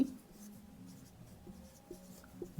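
Pen on paper writing out a math solution, soft scratchy strokes in short bursts, quiet and close with no voices.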